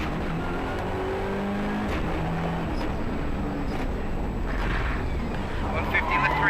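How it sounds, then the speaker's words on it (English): Rally car engine from an Australian Rally Championship forest stage, driven by a 19-year-old, running steadily and working up through the gears, loud and continuous with wind buffeting, under a commentator's voice. "The 19-year-old checking the gauges as he works up through the gearbox"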